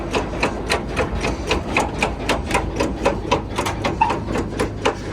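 A transfer truck trailer is rolled in by working a lever, giving a steady run of evenly spaced mechanical clacks and knocks over a low rumble, fairly close and with no talking.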